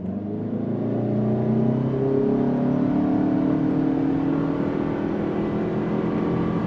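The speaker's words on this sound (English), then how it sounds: "Let me do a quick on throttle here, because like I said, we don't have a V6 anymore, but we do have the hybrid." A 2025 Toyota Camry XSE hybrid accelerates hard on throttle, its engine drone climbing steadily in pitch and staying loud and close throughout, with no talk.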